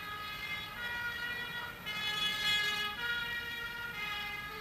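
A fire engine siren wails with a steady, harmonic tone, moderately distant, rising and falling gently in loudness over a low rumble of traffic, as firefighters arrive at a house fire after a fuel oil tank explosion in 1967.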